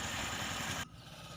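A Yanmar rice planter's engine runs with a steady, buzzing mid-pitched drone in the paddy field, then abruptly drops to a quieter idle near the end.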